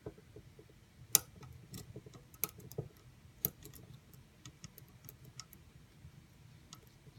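Lock pins setting under a tension wrench during lock picking, heard as sparse sharp clicks and ticks, a couple of them stronger and crisp, over a quiet low rumble.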